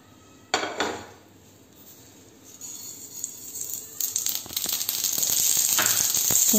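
Mustard seeds hit hot oil in a pan during tempering for Gujarati khandvi. A metallic clank comes first, then a crackling sizzle swells and holds steady and loud to the end, with no talk.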